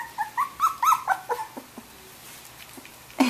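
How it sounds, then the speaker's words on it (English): A small dog whimpers in a run of high, wavering whines, several short cries close together, then a pause and one more yelp at the end. "Oh, Sawyer, do you like the puppy kissing you?"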